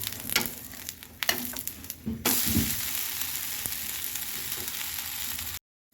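Butter dosa frying on a hot pan: a few faint clinks and scrapes, then a steady, close hiss of sizzling fat that continues for several seconds before cutting off abruptly.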